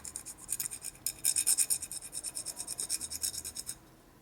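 A shovelhead engine part for a big-bore stroker motor is rubbed by hand to remove burrs, making quiet, close rasping strokes that repeat in a steady back-and-forth rhythm.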